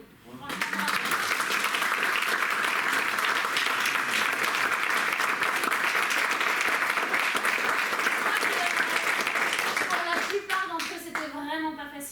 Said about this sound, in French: je crois qu'on peut vraiment les applaudir